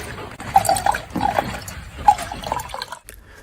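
Liquid from fermented neem leaves, siam weed, lemongrass and tobacco in vinegar and distilled spirit poured through a filter, giving faint splashing and trickling with a few brief dripping bursts that fade out near the end.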